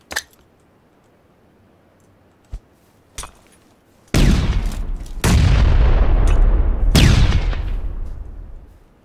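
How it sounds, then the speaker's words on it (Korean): A grenade detonates in PUBG, a loud close boom that follows a few sharp clicks and taps, then a second heavy blast rolls in and the rumble lingers and fades away. "수류탄 맞았는데."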